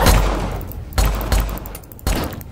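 Pistol shots in a Roblox game, four sharp reports spaced unevenly across a couple of seconds, loud and close with short decaying tails.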